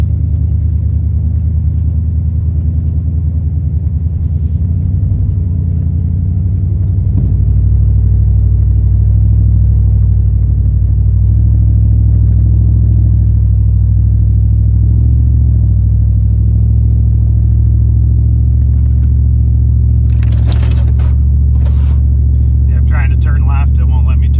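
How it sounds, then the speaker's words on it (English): Light duty pickup truck with a big snow plow mounted, its engine droning in a steady, loud low rumble while working hard through snow in Michigan, with a few brief higher bursts near the end. "my truck works extra freaking hard because it's such a light duty truck and I got such a big plow on it"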